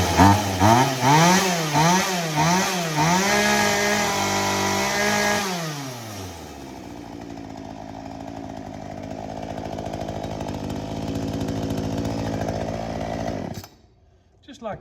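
A small engine, just fixed after trouble caused by a cheap fuel filter, revs up and down in several loud pulses, then holds wide open throttle with a steady high whine before cutting off near the end, with someone talking over it.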